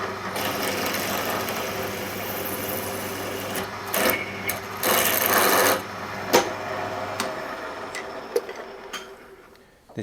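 A power drill with an 8.5 mm bit whirs steadily and loudly up close, drilling a clearance hole in metal on a bench vice, grinding with a few bursts of scraping, then spins down and stops.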